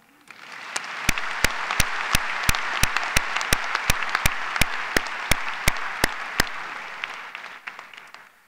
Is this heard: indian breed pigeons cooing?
no